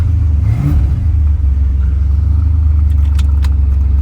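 Manual-transmission car driving, heard as a loud, steady low engine rumble from inside the cabin, with a brief rise near the start and light jingling toward the end, and no talk.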